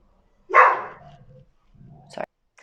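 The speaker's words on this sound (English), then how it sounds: "My dog was barking and thought someone was here" A dog barks once sharply and close by, followed by a softer, shorter bark or yip about a second later, in an otherwise quiet room.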